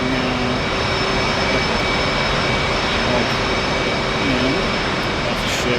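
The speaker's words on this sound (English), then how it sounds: "I believe we're supposed to turn the engine off now." Steady broadband roar of an F/A-18 Hornet's engine in the DCS flight simulator, a continuous jet drone with faint tonal whine holding loud and even throughout, with no clear winding-down heard.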